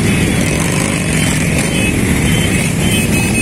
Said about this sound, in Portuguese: É muita moto, galera.